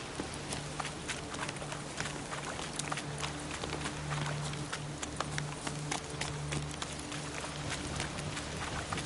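Rapid clip-clop of a horse's galloping hooves in the video game The Witcher 3 runs steadily throughout over a dense, continuous noisy background with a low hum.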